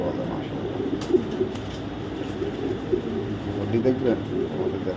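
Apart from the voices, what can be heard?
racing pigeons cooing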